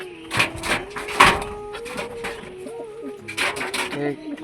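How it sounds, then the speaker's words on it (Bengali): A pigeon gives close, throaty coos in a run of rising and falling phrases, broken by a few sharp bumps and rustles nearby. "আমাদের পায়রাটা ডাকতে দেখো"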